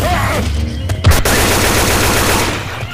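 Loud, close rapid gunfire in Left 4 Dead 2's Swamp Fever campaign, a dense automatic burst with a sharp heavy shot near the middle, continuing steadily to the end.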